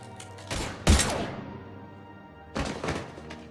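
Bursts of gunfire in the Mass Effect 3 game at Purgatory: a sharp volley near the start, then quieter moments before a second cluster of shots, with no talking.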